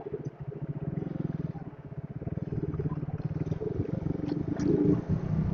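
A motorcycle with a fuel-injection fault idling after a wash, its engine chugging with an uneven, stumbling beat that misfires repeatedly, close and fairly loud.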